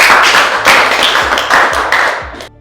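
A classroom of students claps briefly for a new teacher, a close, loud burst of uneven hand claps with a few sharp thuds, stopping abruptly after a couple of seconds.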